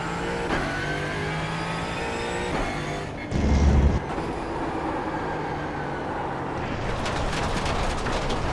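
A loud race car engine in the iRacing simulator game screams and revs through gear changes, with a brief burst of rougher noise partway through as the pitch rises and falls.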